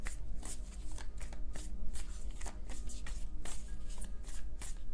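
Tarot cards being shuffled by hand, a fast run of crisp riffling flicks and slaps, close and steady, with no voices.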